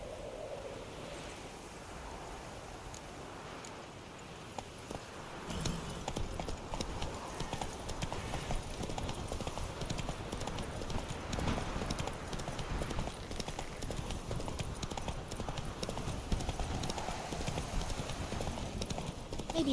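Roach the horse galloping in The Witcher 3, heard as rhythmic hoof clip-clops that carry on steadily throughout and grow louder partway through, over a wash of wind or surf.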